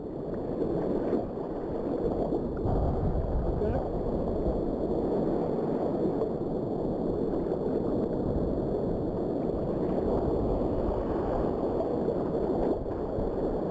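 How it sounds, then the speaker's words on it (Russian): A stormy sea wave washes over the shore during a storm, a loud, continuous rushing roar of churning water that fills the whole stretch, close and heavy, with no speech. "Как волной накрывает."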